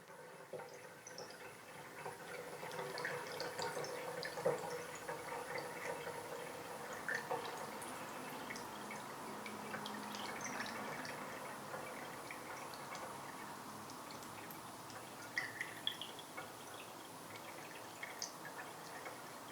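A machine's water tank fills up, a quiet, steady trickling and gurgle with scattered small drips and ticks that continue for about twenty seconds, with no talking.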